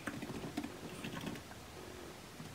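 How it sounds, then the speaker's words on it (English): Typing on a computer keyboard: a quick flurry of soft key clicks that thins out toward the end, faint and close, without speech. "So I finished typing out my fantastic answers"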